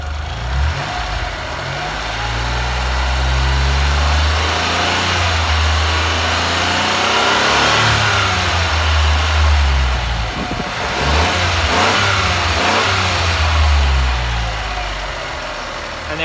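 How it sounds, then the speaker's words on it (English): Car engine running on vapour fuel, idling steadily with a low rumble and rising into several revs, loud and close, with no talking over it. "The car's running."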